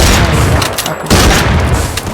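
Loud, booming shotgun blasts in the video game Free Fire repeat in quick succession, dense and close, with only a brief gap in the middle.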